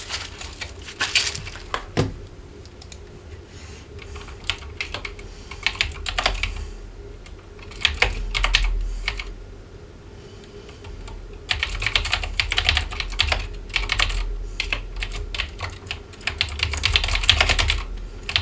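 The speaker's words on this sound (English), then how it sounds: "typing was probably super loud" Rapid clattering keystrokes on the plastic keyboard of an MNT Reform laptop, loud and close, coming in uneven bursts with brief pauses between them.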